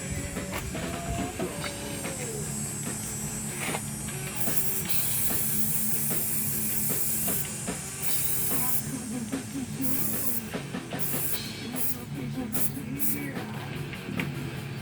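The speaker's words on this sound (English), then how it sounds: "So, sprayed it on the tires and on the seat." Foam cleaner sprayed from a can onto tires and a seat, a steady loud hiss that runs throughout with brief breaks, no talking.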